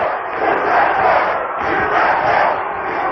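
Wrestling arena crowd at a 1997 Chris Jericho versus Steven Regal match, a loud roaring cheer that swells and dips in waves, massed voices filling the hall.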